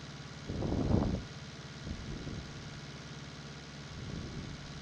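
A tractor engine in Farming Simulator 19 drones steadily while mowing a large field at about twelve miles an hour, a low continuous hum with a louder surge near the start and softer swells later.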